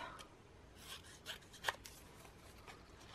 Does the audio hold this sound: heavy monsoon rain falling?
no